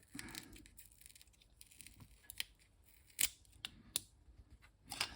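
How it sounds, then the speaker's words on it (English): A TI calculator, a TI-74 BASICALC or TI-95 PROCALC, being unwrapped from its packaging: close, quiet crinkling and tearing with a few sharp snips and rustles, intermittent and alone. "So let's unwrap it."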